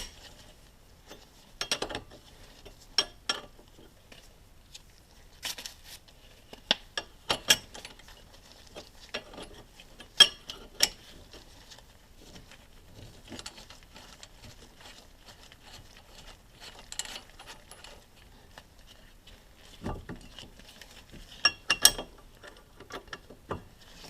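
Wrench clicks and metallic ratcheting while a brake caliper bolt coated in anti-seize is tightened on a 2003 Chevrolet Malibu during a pad and rotor job, with sparse, irregular ticks and clanks standing out close against a quiet background.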